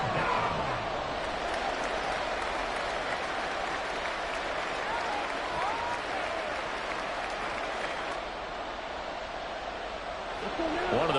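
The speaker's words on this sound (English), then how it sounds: "the crowd getting into it as we come up on a big 3rd down" Stadium crowd at an American football game cheering and applauding as a big third down approaches, a dense, sustained roar with clapping that holds steady and dips slightly near the end, under play-by-play commentary.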